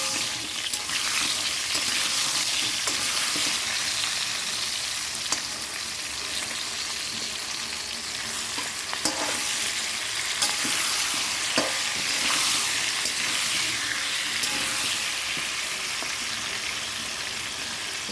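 Potatoes and green chilies fry in a hot pan for a fish curry, making a loud, continuous close sizzle with faint stirring scrapes and no speech.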